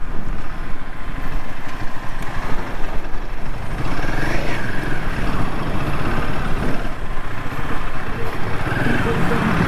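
A truck's engine grinds and rumbles along a broken mountain road in Nepal's Dailekh area, a loud, continuous drone close by with voices talking over it.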